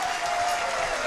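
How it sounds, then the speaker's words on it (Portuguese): Studio audience applauding on a televised music show, a brief burst of steady, dense clapping at moderate level. "cadê as palmas?"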